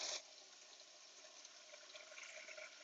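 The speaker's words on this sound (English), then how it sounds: "So we take the water and we fill up" Water pours steadily from a tap into a container to make cold lavender towels for hot power yoga, a constant hissing rush that begins with a brief louder splash.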